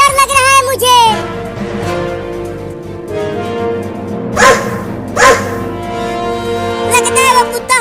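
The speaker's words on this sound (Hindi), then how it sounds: "एक बड़ा कुत्ता मुझे खाने के लिए आ रहा है" A big cartoon dog barks loudly and close, a few sharp barks at the start and then two separate barks later, with background music running underneath.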